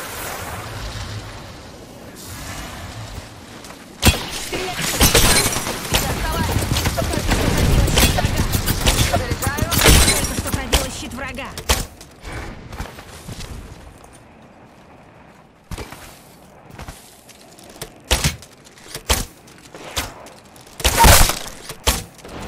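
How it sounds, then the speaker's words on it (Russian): A grenade blows up in a video game, giving a loud, sustained roar of blast and shattering debris, followed by scattered cracks and sharp bursts, with voices talking over parts of it. "Граната!"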